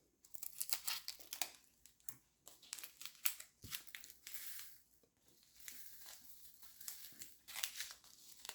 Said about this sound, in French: on va ouvrir un sachet de 310